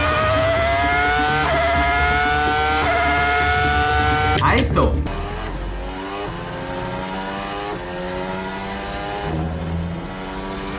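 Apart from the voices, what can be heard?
Formula 1 race car engines, old V10 then modern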